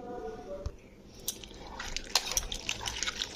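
Bitter gourd slices rinsed in water by hand, with soft splashing, dripping and squishing that grows busier and louder in the second half, close by.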